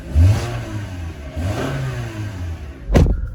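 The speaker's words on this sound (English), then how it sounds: "give it a bit of a rev." A Toyota RAV4 Edge engine idles low, then revs up in a couple of swells, ending with a sharp burst, close and loud with no talking.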